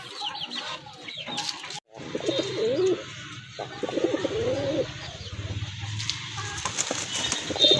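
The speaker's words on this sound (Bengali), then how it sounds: "এটা হচ্ছে আপনার অরিজিনাল দেশি কবুতর" Local deshi pigeons coo repeatedly at close range, soft rolling calls overlapping one another, with clucking fowl and other birds chattering in the background and a brief silent break near the start.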